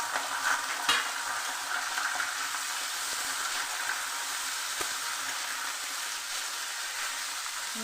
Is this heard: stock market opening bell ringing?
no